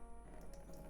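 Rinse water draining off rice, a faint, soft trickle and splash of water running out, brief and quiet against a low background hum.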